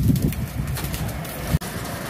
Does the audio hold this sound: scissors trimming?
no